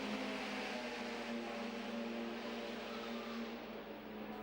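Engines of 1937–38 Grand Prix racing cars at Donington, including a rear-engined 16-cylinder 6-litre Auto Union and a front-engined Mercedes-Benz, producing a steady, loud, sustained drone throughout with no pauses.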